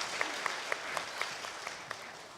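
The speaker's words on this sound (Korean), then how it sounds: "박수를 올려드리겠습니다." A church congregation applauds together in a steady, dense wash of clapping, with a few sharper claps standing out at regular intervals through the short stretch.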